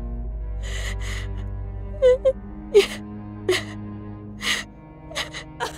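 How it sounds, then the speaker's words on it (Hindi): A woman cries in a dense forest with several gasping sobs, whimpers and wailing breaths that come in irregular bursts over a low steady hum, faint and somewhat distant. "तभी उसे किसी औरत के रोने की आवाज सुनाई देती है"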